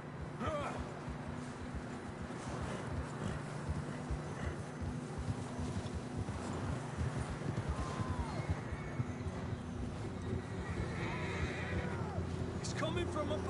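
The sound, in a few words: horses in the Red Dead Redemption 2 video game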